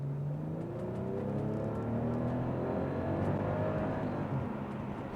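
A 2005 Bentley Continental GT coupe with its 6.0-litre all-wheel-drive W12 engine pulls hard under acceleration, a steady, loud, smooth engine drone with rising harmonic tones heard from inside the car, with no talking.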